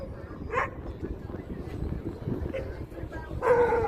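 Local street dogs at the Giza pyramids in Egypt let out a couple of short, faint barks, heard at a distance over a low background murmur and outdoor noise.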